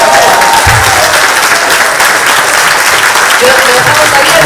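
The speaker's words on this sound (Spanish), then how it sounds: "¡Un aplauso!" Loud, sustained audience applause fills a hall during a bank-sponsored event, with a dense wash of clapping and faint voices and cheers mixed in throughout.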